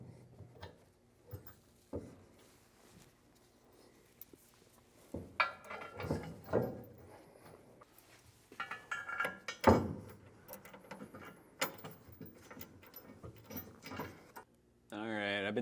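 A socket wrench with a 3/4 inch socket snugging down bolts on a Curt Double Lock Flip and Store underbed gooseneck hitch, with bursts of rapid ratcheting clicks and metal clinks between pauses, close by and mixed with someone talking.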